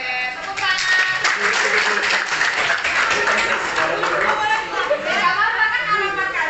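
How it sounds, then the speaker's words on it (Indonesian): Classroom of students clapping hands together, a busy, continuous patter mixed with chatter, chuckles and voices throughout, fairly loud and close. "Oke, tepuk tangan."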